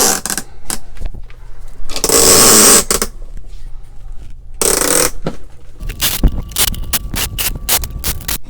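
Ratchet rope hangers are pulled to raise an HLG550 LED grow light inside a 4x4 grow tent, giving loud, close bursts of whirring, zipping rope and clicking ratchet sounds in several separate pulls.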